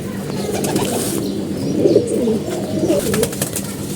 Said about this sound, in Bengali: কালো কবুতর